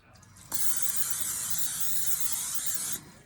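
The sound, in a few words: cooking spray sprayed into roasting pan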